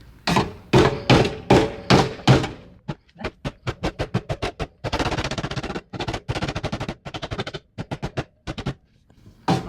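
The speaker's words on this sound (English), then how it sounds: "we're at the sledge, and this thing's actually working the best out of everything" A sledgehammer pounds damaged Miata body metal in rapid, heavy, loud blows, repeated in bursts of close metallic impacts with brief pauses between volleys.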